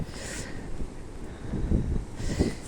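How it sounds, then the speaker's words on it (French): Gusty wind buffets the microphone with a low, steady rumble that swells and fades, loudest toward the end. "il y a du vent"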